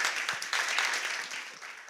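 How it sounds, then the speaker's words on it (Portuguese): An audience claps for a team at an evening church gathering, a dense, steady round of applause from many hands filling the room for a couple of seconds without pause. "Uma salva de palmas para"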